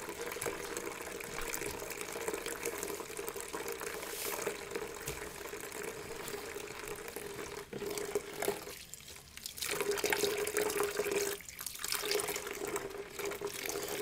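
Water running and sloshing steadily in a sink or bucket of sudsy wig-washing water, close and continuous with a few louder splashes.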